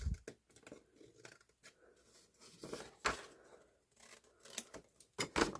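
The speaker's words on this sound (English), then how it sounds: "So then just use my smaller scissors for this." Small scissors snipping and tapering the corners of book pages, giving a series of quiet, irregular clipping and crisp paper cuts close by, with no talk.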